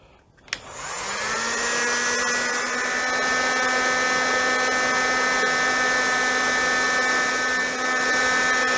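A heat gun starts with a click and spins up to a steady, loud whirring blow with a constant tonal hum, held unbroken for several seconds while warming the fork bolts on a Suzuki V-Strom.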